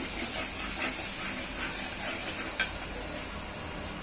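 Vegetables with turmeric, garam masala and salt are sautéed in a hot pan, a loud, steady hissing sizzle with soft stirring scrapes and one brief sharp clack of the spoon against the pan.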